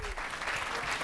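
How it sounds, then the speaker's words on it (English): A conference audience claps in a short burst of dense applause, with a voice partly heard beneath it. "round of applause over here"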